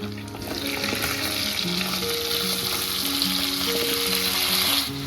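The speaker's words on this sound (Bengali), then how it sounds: "আলু বেগুনটা একটু ভাজা ভাজা হয়ে গেছে" Potato and eggplant chunks sizzle and fry steadily in fish oil left from frying fish heads, part of a Bengali home-cooked vegetable dish, with a constant close crackle and occasional stirring clatter, no talking.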